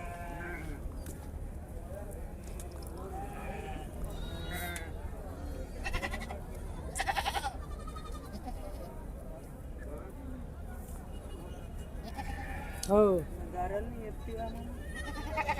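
Goats bleat at a busy Saturday livestock market in Dubbaka, with scattered calls near and far, one louder cry toward the end, and people talking throughout.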